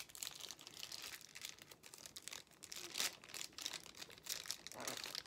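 A small toy package is cut open with steady crinkling and crunching of plastic wrapping, close and continuous with brief louder tearing bursts.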